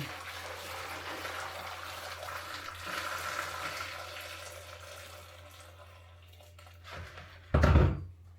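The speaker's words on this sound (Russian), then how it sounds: "сейчас заливаю кипятком" Boiling water poured from a kettle over scored tomatoes in a kitchen for pickling, a soft steady pour and trickle, fairly quiet, ending with a short clunk near the close.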